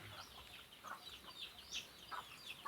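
A chicken on a farm clucks in short, faint, scattered bursts close by, with no one speaking.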